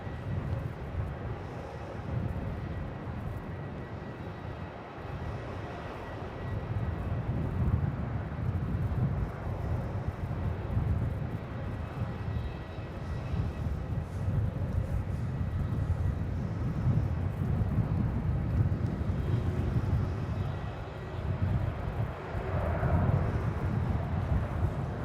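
A Qantas airliner landing on runway 34 at Melbourne Airport in a 17-knot wind, heard as a long, steady low roar of engines and rushing air rising slightly in loudness, muffled by wind buffeting on the microphone.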